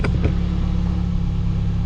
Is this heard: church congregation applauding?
no